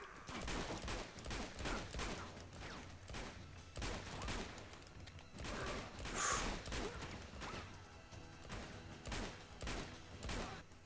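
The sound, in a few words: gunshots in the video game Uncharted 2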